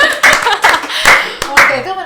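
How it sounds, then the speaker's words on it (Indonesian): Several bursts of hand clapping in a podcast studio, loud and close, arriving in quick uneven rounds with voices talking over them. "tepuk tangan bro."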